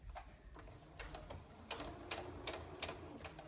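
A sewing machine stitching along a fabric edge for an earbud holder, running in short quick bursts of rapid mechanical ticking with brief pauses between, close and fairly quiet, with no voices.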